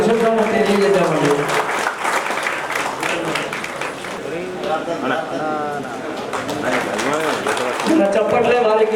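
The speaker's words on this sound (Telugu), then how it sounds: "గట్టిగా చప్పట్లతో మన అశోకాన్ని తెలియజేద్దామండి." An audience at a public function hall event claps in a sustained round of applause while a person speaks loudly over it.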